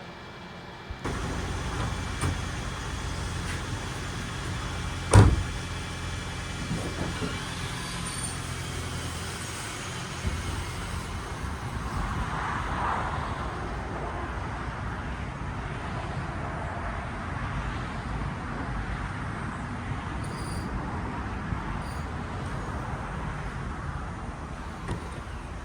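A high-mileage hybrid car drives on the road, its steady, moderate road and engine hum continuing throughout, with one sharp knock early on.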